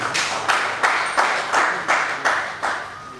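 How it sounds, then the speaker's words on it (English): An audience claps in slow, evenly spaced bursts, about eight distinct rhythmic rounds of applause at a community celebration, close and fairly loud with no talking over it. "a round of applause for her, please"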